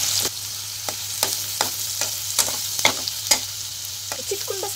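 Food frying in a pan with turmeric being stirred, a continuous sizzle with repeated sharp spatula scrapes and taps against the pan, close and distinct over a steady low hum.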